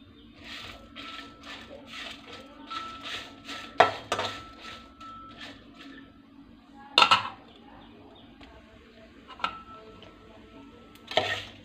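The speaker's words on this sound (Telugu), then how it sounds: "స్టవ్ ఆన్ చేసి కళాయి పెట్టుకొని దీంట్లో ఎండు మిరపకాయలు వేసుకోవాలి" Dry red chillies roasting in a kadai on the stove, with light metallic clinks, ticks and scrapes of stirring scattered irregularly over quiet background hiss and a few sharper knocks.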